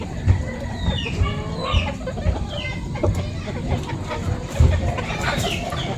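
Hens clucking on a farm with chicks and bantams around, repeated close clucks and short squawks over a busy background, with someone talking in between.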